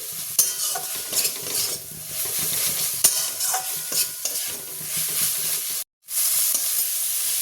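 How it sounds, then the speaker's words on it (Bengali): Drumstick flower paste frying in a pan, a steady close sizzle broken by frequent scraping stirs of a utensil, with a brief silent gap near the end and no talk. "আমি এটা ভালো করে ভেজে নিই"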